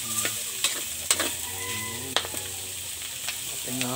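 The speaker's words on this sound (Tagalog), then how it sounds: "Ating nga halo-haloin." Sisig sizzles steadily in a hot pan while a spoon or spatula stirs it, giving several sharp scrapes and clacks against the metal over the constant frying hiss.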